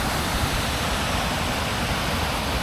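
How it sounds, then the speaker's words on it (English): Waterfalls on the Rhymney River pour in a steady, dense broadband roar with no breaks, loud and unbroken, with no voices over it. "It's got a whole lot of waterfalls down there."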